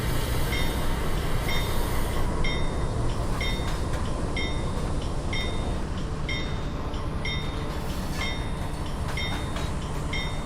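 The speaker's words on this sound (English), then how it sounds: "I'm making the train release its brakes." A coal train in Trainz Railroad Simulator 2019 runs with a steady low rumble, while regular metallic clicks or chimes repeat at roughly even intervals over the continuous rolling noise.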